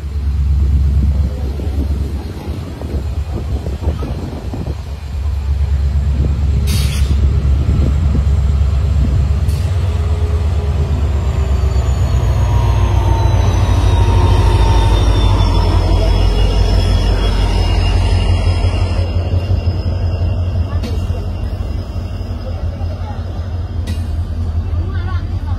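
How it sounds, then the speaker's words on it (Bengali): A train passes, picking up speed, with a loud, sustained low rumble and rattling lasting many seconds, high metallic tones sliding over it, and people talking faintly nearby. "ট্রেন আসতেছে"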